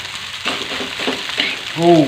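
Fried rice with chili and petai being stirred in a pan, with a steady close sizzle broken by several scraping stirs and a brief tonal clatter near the end.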